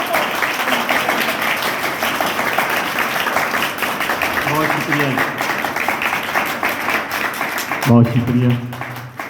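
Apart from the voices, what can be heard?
church congregation applause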